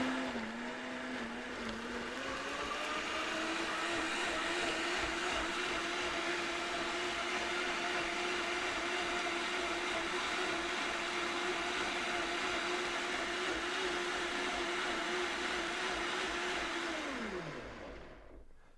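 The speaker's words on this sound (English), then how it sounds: "So what you do is you turn the blender on" A BlendWorks Pro-Series blender motor whirs steadily at a constant pitch for most of the clip, then winds down as it's switched off near the end.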